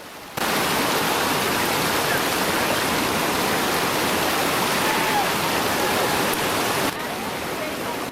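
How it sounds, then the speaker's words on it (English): A river waterfall and rapids in a canyon on the Tutshi River roar as a loud, steady rush of white water that fills the whole clip, beginning abruptly and easing slightly near the end. "We have reached the waterfall."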